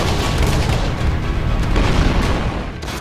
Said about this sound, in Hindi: जहां बम बरस रहे हैं